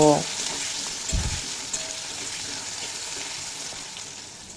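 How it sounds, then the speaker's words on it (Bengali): Raw banana pieces that were cut and washed fry in a pan with a loud, continuous sizzle and bubbling hiss, with a brief clunk near the start; no voices. "এরপর অ্যাড করে দেব কেটে ধুয়ে পরিষ্কার করে রাখা কাঁচকলা দিয়ে খুব ভালোভাবে ভেজে নেব"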